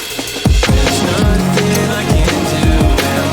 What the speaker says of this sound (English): I added another breakbeat on top of that of a ride cymbal